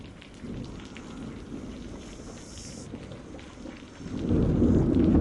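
Steady rain hisses through a wilderness storm in a national park while low thunder rolls continuously underneath, the rumble swelling louder and closer over the final second.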